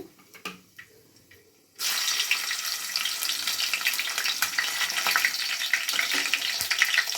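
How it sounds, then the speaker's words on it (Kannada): After a few quiet clinks, loud sizzling bursts in as curry leaves and peanuts hit hot oil for tempering, then crackles and spits steadily without letup. "ಫ್ರೈ ಮಾಡ್ಕೊಳ್ಳೋಣ"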